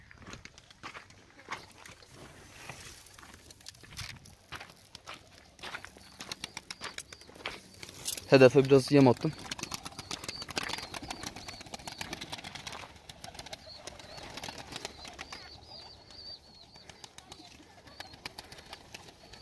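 Tumbler pigeons scattered with wheat burst into a short flurry of wing flaps amid soft cooing and footsteps outdoors, with someone talking intermittently over the birds.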